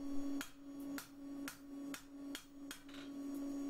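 A hammer strikes a metal lantern bracket to take a kink out, about eight sharp, ringing taps at a quick, fairly even pace, close and alone.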